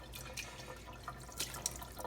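Tap water runs and drips while a whole-house water filter cartridge is rinsed out in the Texas heat, a steady close splashing with a few sharper drips and no talking.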